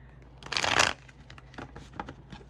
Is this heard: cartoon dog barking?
no